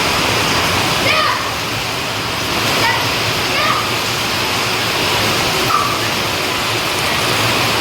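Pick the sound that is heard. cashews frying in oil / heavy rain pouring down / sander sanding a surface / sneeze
heavy rain pouring down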